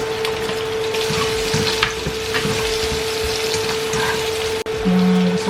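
Onions, garlic and ginger sizzle steadily in a pan while cooking tinola, a continuous close crackling fry with a faint steady hum and a brief clatter near the end.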